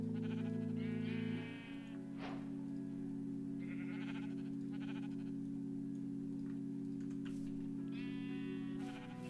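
Minecraft sheep on a wool farm in the video game, bleating in several drawn-out, buzzy calls that overlap and repeat, heard over a steady low game hum with no talk.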